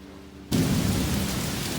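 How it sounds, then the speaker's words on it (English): Heavy rain and a rumble of thunder burst in suddenly after a quiet moment, then a dense, steady downpour continues loud and close with no talking. "Got some thunder."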